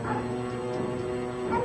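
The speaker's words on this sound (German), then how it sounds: "Wir haben 86 Hunde hier." A large group of kennel dogs, 86 in all on one property, keeps up a dense, continuous chorus of barks, yips and whimpers that blends into a steady wall of sound.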